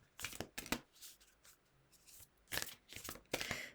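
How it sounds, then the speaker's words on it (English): Tarot cards being shuffled by hand, a few short papery riffling bursts separated by quiet pauses, close and fairly soft, no talking. "The cards are quite difficult to shuffle then."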